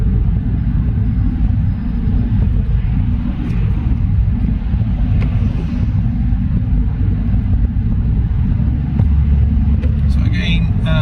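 A car drives along a wet road on a driving test route near a roundabout, with a steady low road rumble and tyre noise filling the clip while a person talks over it.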